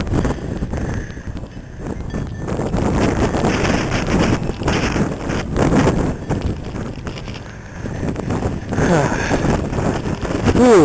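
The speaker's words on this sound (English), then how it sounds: "it is so cold out here and so windy." Strong wind during a Texas snowstorm buffets the microphone in steady, loud gusts, rumbling and roaring for the whole stretch with no clear talk over it.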